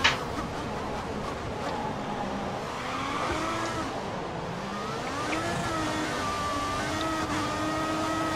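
Formula One cars in the F1 2014 racing game at Suzuka, one overtaking another on the inside with wheels in the grass; steady engine whine with rising and falling pitch sweeps and some tire noise throughout.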